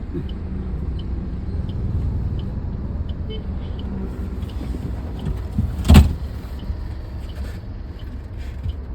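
On an ordinary road, a car passes close by with a steady engine rumble, and a sharp thump or click rings out around the middle before the noise settles back to a low hum.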